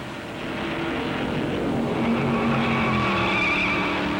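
Stock cars racing at the 1957 Darlington Southern 500, a steady roar of engines passing with a rising whine, no voices over it.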